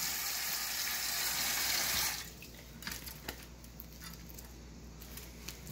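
A kitchen faucet runs in a steady loud gush for about two seconds, then shuts off, leaving faint drips and small clatters in a quiet room.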